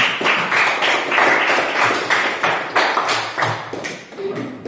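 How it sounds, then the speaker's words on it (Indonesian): A classroom of students claps for a classmate, giving a steady run of close, fairly loud hand claps with a quick, even rhythm that fades near the end. "Oke, tepuk tangan buat Mercy"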